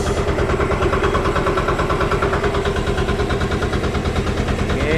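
High-speed boat engine with transmission, rated 12 horsepower, running in a small fishing boat's engine room, a loud close rapid mechanical thumping with steady rhythmic pulses and strong vibration throughout, no voices.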